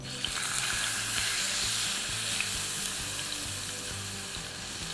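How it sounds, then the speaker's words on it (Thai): Steak sizzles steadily in a hot cast iron pan, a constant loud crackling hiss with small pops throughout and no talking. "จนควันมันเริ่มขึ้น ค่อยเริ่มย่างเนื้อได้นะครับ"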